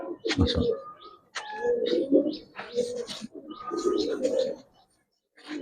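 Giribaz pigeons of the red-patti (লালপাতি) type, large-headed birds at a seller's stock, cooing in repeated low throaty bursts close by, with short gaps between calls and a brief click near the start.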